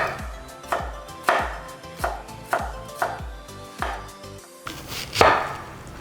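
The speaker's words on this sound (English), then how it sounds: "We're going to julienne the carrot, about 2-inch long pieces." A knife julienning a carrot into thin two-inch strips on a cutting board, with a series of crisp, close chops landing at a steady rhythm, each with a sharp board knock, with no voices.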